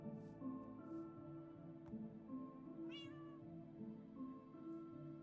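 A cat meows once in Minecraft, a short rising-falling cry over steady background music and soft ambient tones.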